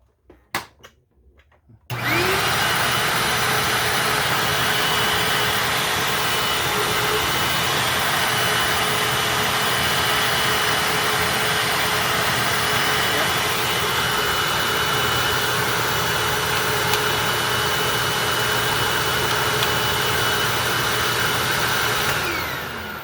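A Hoover WindTunnel self-propelled upright vacuum cleaner starts after a few faint knocks and then runs with a steady, loud whining roar for over twenty seconds, close by, with no talking.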